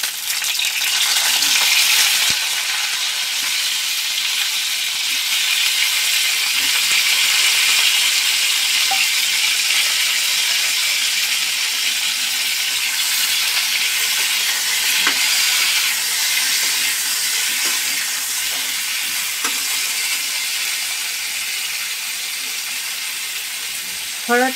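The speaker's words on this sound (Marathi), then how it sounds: "जिरं तडतडलं की ही जी वांगी आहे ती टाकायची" Eggplant pieces sizzle and crackle steadily in hot oil with spluttering cumin seeds, a loud continuous frying hiss close by with occasional stirring sounds.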